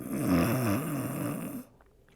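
A voice imitates snoring, a drawn-out rumbling snore with wavering pitch lasting over a second, then cutting off to near silence.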